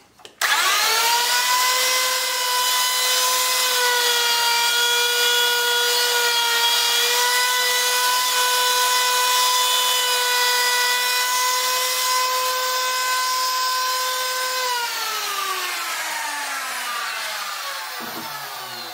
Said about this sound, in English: I'm going to try to route a quarter inch out of this 1-inch spot right here.